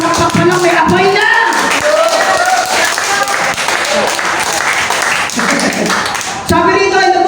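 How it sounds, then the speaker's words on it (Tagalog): An audience at an evangelical church service claps, a dense steady wash of applause running almost the whole time with voices mixed through it, dropping briefly before swelling again at the end. "Kung parang evangelical pumalakpak ha."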